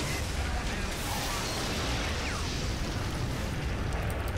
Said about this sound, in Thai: จะระเบิดแล้วเฮ้ยรถมานั่นไง เบิร์ด